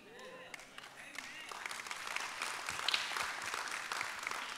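A church congregation breaks into scattered, thin applause that builds gradually from faint to moderate, individual claps audible within the patter, with some voices underneath.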